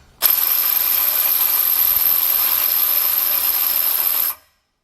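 A Snap-On CTR761 electric ratchet spins loose new fasteners held in a Wilton vise, a loud, steady high-pitched whir that starts abruptly, holds for about four seconds, then cuts off cleanly.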